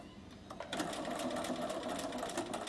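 A Bernina sewing machine back stitches to lock off a line of lace, its motor whirring steadily and close for nearly three seconds after a short quieter start.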